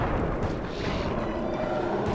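Fireworks explode in the video game Sly 3 Honor Among Thieves as a dense, continuous rumble of booms with no clear gaps.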